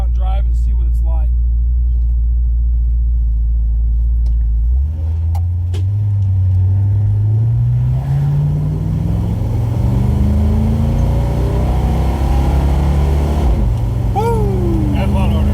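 A car with a 4R70W automatic transmission fitted with a Shift Quick kit pulls away and accelerates, its engine rising in pitch through firm gear shifts, close and loud, with people talking and whooping over it.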